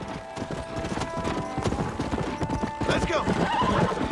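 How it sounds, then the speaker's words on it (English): A horse gallops in Red Dead Redemption with rapid, steady hoofbeats close by. It whinnies near the end, and someone speaks briefly over the running. "Ainda que esse cavalo aqui é rapidinho, hein? O bichinho corre."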